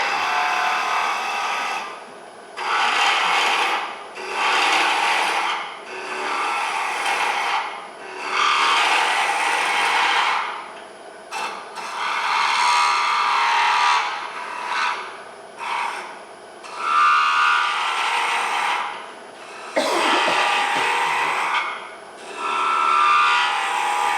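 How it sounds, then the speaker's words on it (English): Close, rasping bursts of a drill grinding into a solid wood block, coming in repeated pulses with brief pauses between, with no talking. "you're really just drilling into a solid block"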